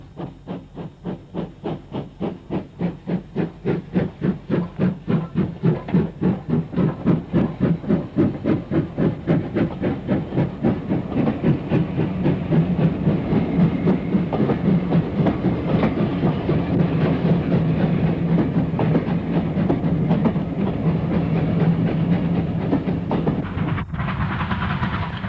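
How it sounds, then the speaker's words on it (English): A 1950 Ivatt steam locomotive in maroon livery approaches Ramsbottom, loud rhythmic exhaust chuffs steadily quickening with hissing steam, close and continuous throughout, with a sudden change near the end as it passes. "Approaching Ramsbottom is an Ivat locomotive built in 1950 and resplendent, if unorthodox,"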